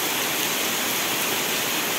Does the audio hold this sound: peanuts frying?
no